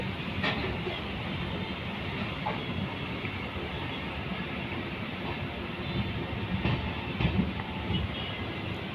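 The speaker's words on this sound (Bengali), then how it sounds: "খুব সুন্দরভাবে এগিয়ে চলেছে কার্ভ লাইন ধরে আমাদের সাইরাং কলকাতা এক্সপ্রেস" The 13126 Sairang–Kolkata Express passes New Farakka Junction on a curved track, a steady rumbling roll with rhythmic wheel clatter and occasional sharper clanks, continuous and fairly close throughout.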